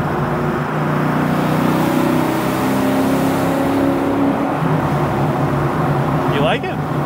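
A supercharged 2003 Ford Cobra at partial throttle, its engine drone steady and close inside the cabin, holding a low hum that rises slightly toward the end.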